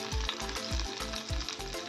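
Onions frying in a pan for a village-style onion sabji, a steady dense crackling sizzle with rhythmic low scraping strokes, close and loud, no voices.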